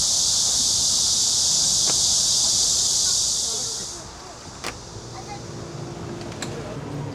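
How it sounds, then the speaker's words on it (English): A loud chorus of cicadas beside a trail in Seoul, an intense steady buzzing that abruptly drops away partway through, leaving quieter outdoor ambience with a few faint clicks. "Listen to how loud them cicadas"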